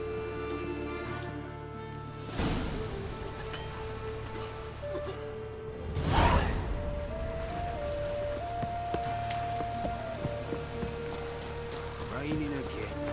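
Steady rain patter in The Witcher 3, with a low ambient hum, a few whooshing swells and tonal game sounds over the downpour.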